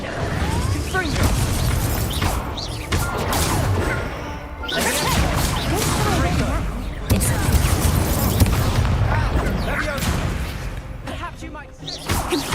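Confringo spell blasts from Hogwarts Legacy go off in repeated loud crashing booms with whooshes between them, mixed with battle clatter and occasional talk across a busy fight.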